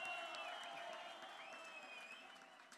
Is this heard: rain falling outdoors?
no